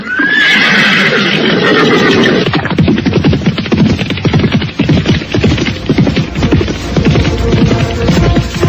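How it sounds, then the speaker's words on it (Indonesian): Two horses neigh loudly at the start, then gallop hard with a rapid, pounding rhythm of hoofbeats that fills the rest of the stretch, close and forceful over a noisy background. "Dua ekor kuda itu berderap kencang, meninggalkan debu yang mengepul tebal."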